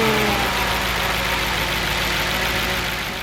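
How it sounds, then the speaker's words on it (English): An Audi S4 V8 running steadily, a loud, continuous close engine drone with a rough, knocking texture throughout and no voices. "after 2 days of work, the S4 was ready for its first start."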